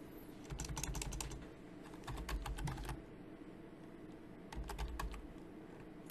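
Keys clatter on a computer keyboard in three quick bursts separated by short pauses, close and clear, with no voice.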